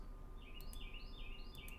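A bird chirps in short repeated high tweets over a steady low background hum, sounding fairly close and a bit faint with no talking.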